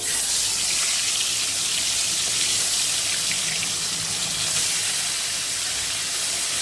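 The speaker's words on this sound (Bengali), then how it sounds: "তো এখানে আমার তেলটা গরম হয়ে গেছে। এবার আমি ছেড়ে দেব মাছগুলো।" Fish frying in hot oil in a kadai sends up a loud, dense, hissing roar that stays nearly constant throughout, close by and without talk.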